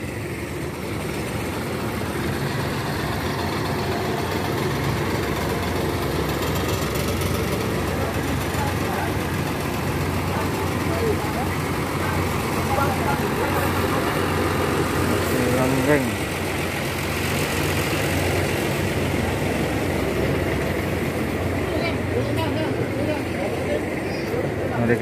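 A Laksmi Langgeng bus idles at a crowded roadside restaurant stop, its engine giving a constant low, even rumble for the whole stretch, with people chatting nearby.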